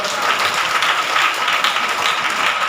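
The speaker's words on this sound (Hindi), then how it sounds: "ताली बजा के प्रभु के नाम का महिमा" A church congregation at a Hindi Bible study claps hands in praise, a steady, loud wash of clapping that continues throughout.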